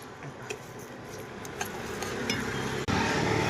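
Rice stirred and roasted in a pan gives a steady dry rustle and scraping with scattered light clinks of a utensil against metal, close and moderately loud, ending in a sudden brief cut followed by a thicker rustling bed.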